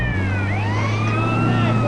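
A police car siren in a video game wails in rising and falling sweeps, loud and close, over a low steady engine drone for a couple of seconds.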